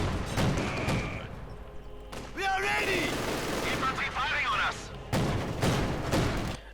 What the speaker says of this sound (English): Infantry firing on us.